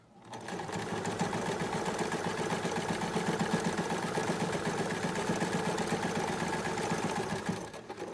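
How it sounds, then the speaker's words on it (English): A sewing machine stitches a simple fabric face mask, running steadily and close up for most of the stretch with a fast, even mechanical whir that starts and stops cleanly, and no talking over it. "Come almost all the way to the edge and leave the needle in and turn it around and then tack back to close off one end of the tube."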